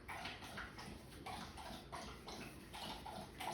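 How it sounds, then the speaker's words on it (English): A dog laps water from a bowl in a steady series of repeated wet laps, fairly close and moderately loud, with no talk over it. "Sorry if you can hear my dog drinking water too."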